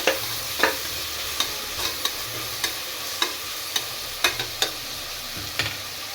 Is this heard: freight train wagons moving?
no